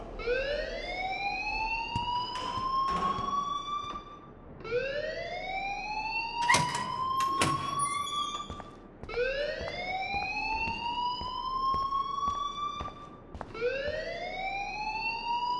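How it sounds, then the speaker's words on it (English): Fire alarm blaring inside Blackwell Academy in the video game Life Is Strange, a loud cycling whoop that rises repeatedly in long sweeps, about four cycles, with brief sharp clatters in between and no talking. "please turn off that alarm since that's your job"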